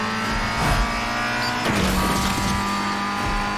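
Racing car engine in the street racing video game Asphalt Street Storm Racing, a Ford Fiesta boosted with nitro, steady loud engine drone throughout with a brief surge and tire noise midway.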